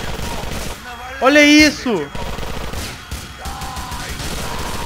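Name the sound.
light machine gun (LMG) firing in GTA video game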